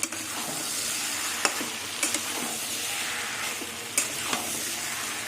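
Shrimp, potato and young jackfruit frying with garam masala and spices in a kadai, steady sizzle with scattered scraping clicks of a spatula stirring, close and moderately loud, no talking.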